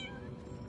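A cat meows in the video game Lies of P DLC, a short mid-close mewing over a low hum of game ambience.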